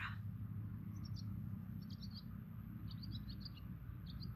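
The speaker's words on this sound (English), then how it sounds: "the birdsong you're hearing is from my other camera" Faint bird chirps repeat in short clusters over a steady low rumble of wind or distant noise.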